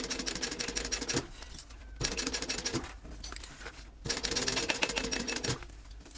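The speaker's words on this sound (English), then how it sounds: "Be real careful going over that seam there with your machine." A sewing machine stitches over a seam in a travel-size fold-and-zip craft project, with a steady mechanical whir in three bursts separated by brief pauses, close and clear.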